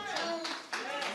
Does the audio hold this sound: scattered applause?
yes